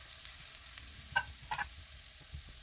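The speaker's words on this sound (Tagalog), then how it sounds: "Isunod na igisa ang garlic hanggang maging light brown" Garlic sautéing in fish-frying oil in a pot, a low steady sizzle with a few brief stirring clinks and scrapes standing out midway, fairly quiet and close.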